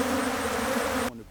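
Agitated bees swarm around beehives during an inspection, a dense, loud, continuous buzz close by that drops away abruptly near the end.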